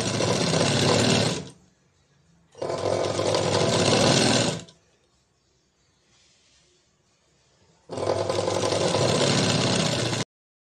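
A sewing machine stitches a blouse seam in three loud, steady bursts of rapid whirring, each a second or two long, separated by near-silent pauses.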